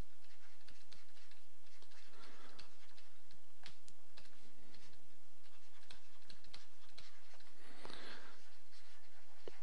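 Pen or marker writing on a board during a discrete mathematics lecture, with soft scratchy strokes and small ticking taps spread across the whole stretch against a quiet room hum, no voice.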